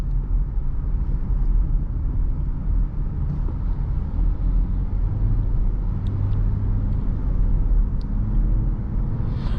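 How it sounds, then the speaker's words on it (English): A 2023 Dodge Challenger SXT with an 8-speed automatic driving along, a steady low engine and road rumble heard from inside the cabin, with no distinct shift changes standing out. "The 8-speed automatic cycles through its gears really smoothly."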